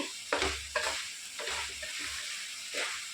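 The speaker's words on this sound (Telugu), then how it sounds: "కారం కూడా కొంచెం వేగనిద్దాము" Chili powder frying in hot oil for an Andhra-style country chicken curry, a steady close sizzle broken by several louder bursts of stirring and scraping in the pan, with no voices.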